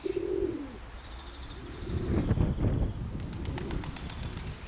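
A young pigeon coos softly at close range, with low, rounded calls and a few brief flutters toward the end, all in a quiet setting with no talk.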